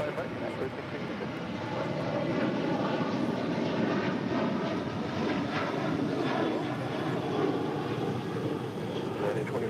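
An airliner takes off from runway 25 right, its engines giving a loud, steady roar that holds without a break from start to finish. Voices of people talking run quietly underneath.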